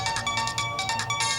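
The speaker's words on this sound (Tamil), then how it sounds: "ஃபோன் அடிக்குது" A phone rings in a home setting, bursts of a bright electronic ring pulsing in a steady repeating rhythm over a low background hum, with no voices.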